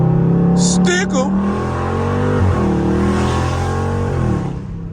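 A Dodge Charger Scat Pack at night, its engine droning steadily and rising in pitch as it accelerates, loud and close, with a few brief high clicks near the start.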